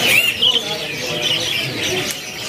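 A canary at a bird kiosk gives a few short, high chirps near the start, over a noisy background of indoor murmur.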